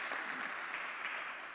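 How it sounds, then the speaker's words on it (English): Audience applause after a panel discussion on art, AI and blockchain, a short, dense burst of clapping that carries steadily from start to finish. "Can we give a round of applause for Astrid and for marvelous moderation here?"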